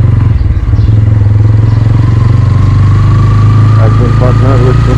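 Bajaj N160 motorcycle engine running steadily and loud on a ride out from Kolkata toward Purulia, a constant low drone with mechanical clatter throughout, with a voice faintly heard near the end.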